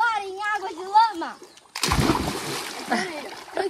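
A loud, sudden splash as an animal jumps into muddy water, followed by sloshing and dripping, after someone speaks in an excited, sing-song voice.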